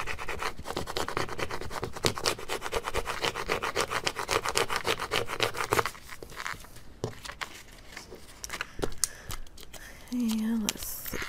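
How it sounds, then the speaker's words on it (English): A small squeegee tool burnishing Cricut vinyl onto a canvas frame, a close rhythmic rubbing and scraping in quick strokes that grows sparser partway through, with a voice speaking over it near the end. "Then I need my little squeegee tool, and I'll burnish this down."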